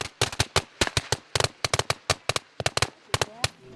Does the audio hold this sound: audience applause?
no